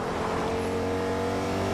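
Car engine driving and revving in the Fortnite video game, a steady loud motor drone with tonal hum held throughout without pause.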